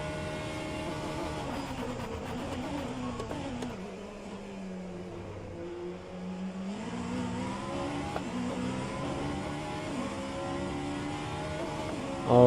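Vanwall Hypercar engine in the rFactor 2 racing game, droning and revving steadily with pitch rising and falling through gear changes, loud and continuous with no talk.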